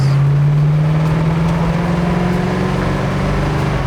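A 1969 Ford Mustang Mach 1 with a 390 S-code V8 and four-speed pulls hard on the road, its loud, steady engine drone rising slowly in pitch as it accelerates, heard from inside the car with no talking.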